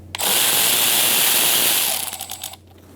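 A power tool spins out Torx bolts from underneath a 2012-2018 Ford Focus 2.0L, giving a loud, close, continuous whirring ratchet burst of about two seconds that stutters and trails off.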